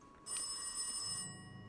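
An electronic telephone ring sounds once from the Darkside Detective video game, clear and moderately loud, with no talking.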